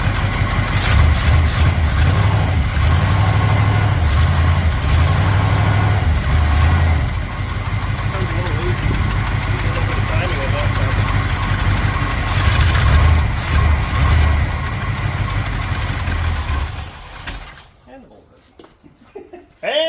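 A car engine with a newly fitted 4-barrel carburetor idles loudly and close, with an uneven rumble that drops away near the end. Voices talk over it.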